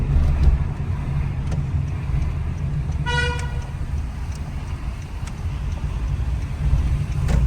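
Right-hand-drive car moving through traffic on Cyprus streets, a continuous low engine and road rumble with a short nearby horn toot around midway.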